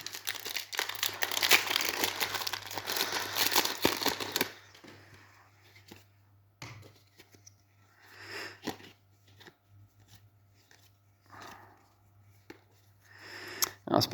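Foil wrapper of a Magic: The Gathering Ikoria booster pack crinkling and tearing open up close for about four seconds, followed by quieter sporadic rustles and crinkles of handling.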